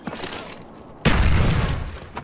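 A single frag grenade explodes in video game Black Ops 1, with a sudden loud boom partway through and a rumbling tail that slowly fades.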